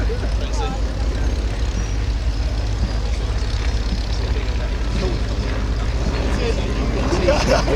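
A vintage WACO UPF-7 biplane's engine drones steadily at the Little Gransden air show, a loud continuous low rumble, with a commentator talking over it throughout.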